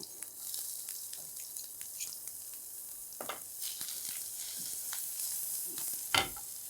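Finely chopped ginger and garlic hiss steadily in hot oil, broken by occasional sharp spatters and a louder clack of the spoon near the end.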